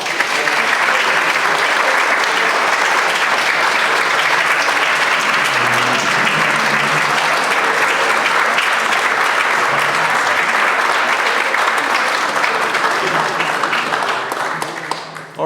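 An audience applauds after a lecture on porcelain in colonial America at Drayton Hall, a dense, sustained clapping that holds steady for about fifteen seconds before tapering off at the end.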